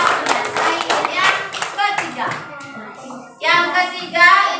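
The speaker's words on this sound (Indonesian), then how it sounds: "Tepuk tangan bisa ya?" A class of fourth-grade primary school children claps hands in bursts in a classroom, sharp rhythmic clapping that pauses briefly and resumes loud, with children's voices mixed in.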